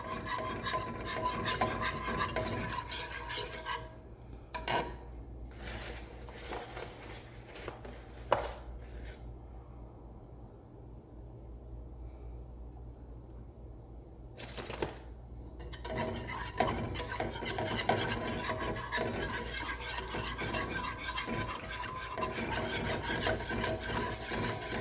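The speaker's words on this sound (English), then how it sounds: "Keep stirring as much as you possibly can." Food being stirred in a cooking pot, heard as steady scraping and rasping strokes of a utensil against the pot, continuous and fairly faint, with a brief quieter lull partway through and no talking.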